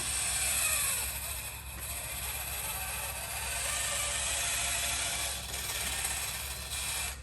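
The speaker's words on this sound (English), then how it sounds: "Wow, you can really hear those gears struggling." Small plastic gears in a Mr. Mercury toy robot whir and click continuously during its bending motion, straining and grinding nearby, with the pitch wavering as the motor labors. No one speaks.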